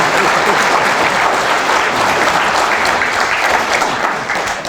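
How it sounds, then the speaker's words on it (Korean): Sustained, dense applause from a crowded audience at a Korean political talk concert, loud and steady throughout, easing slightly near the end. "다시 한번 두 분께 큰 박수 한번."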